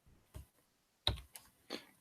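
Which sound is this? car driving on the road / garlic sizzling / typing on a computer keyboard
typing on a computer keyboard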